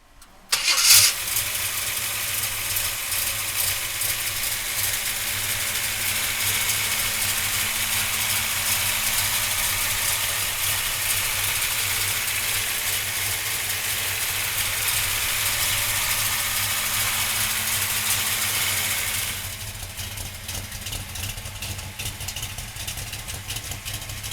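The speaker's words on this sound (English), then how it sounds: "So come on up and we're gonna fire the big block up." A 1967 Chevrolet Camaro RS with a big-block V8 cranks and fires, then settles into a loud, steady rumbling idle that runs close and continuous, easing slightly in level near the end.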